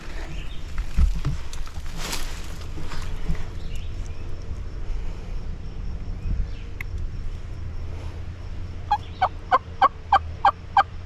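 Faint outdoor ambience with distant rumbles, then near the end a rapid series of sharp, evenly spaced calls ring out, suggesting wild turkey gobbling and calling.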